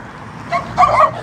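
Two quick yappy barks from a nearby loose dog near the Santa Maria bridge in the Philippines, the second louder and slightly drawn out, over faint background noise.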